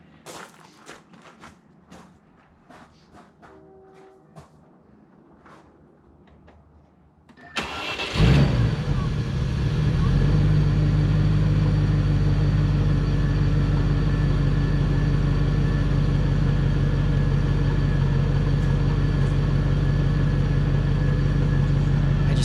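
After several seconds of quiet clicks and faint sounds, a 1997 Land Rover Discovery engine cranks and catches, then settles into a steady, smooth, low idle heard from outside.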